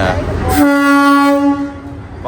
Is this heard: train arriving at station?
yes